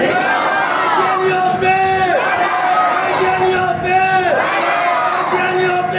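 A large crowd at a religious conference chanting slogans together in a call and response with a leader, loud and rhythmic, with voices rising and falling in repeated phrases.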